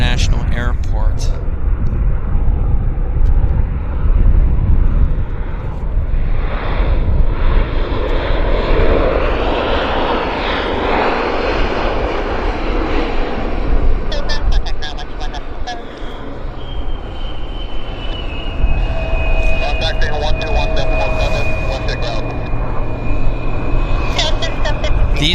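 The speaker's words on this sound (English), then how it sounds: "nicely landing at Vancouver International Airport." A passenger airplane arriving from Seattle lands at Vancouver International Airport, its loud, sustained engine roar swelling and fading over about twenty-five seconds while a voice talks over it.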